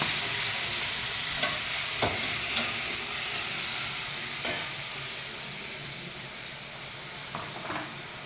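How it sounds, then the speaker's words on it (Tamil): Sliced onions sauté in a pan for vada curry, giving a continuous close frying sizzle with occasional light scrapes and taps of a stirring spoon. "இப்போ இதை வதக்கணும். இது நல்லா வதங்கணும்."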